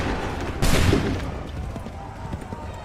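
Musket volley fire in Assassin's Creed III, one loud, broad crashing volley followed by scattered shots and battlefield noise that fade out, with faint voices in the mix.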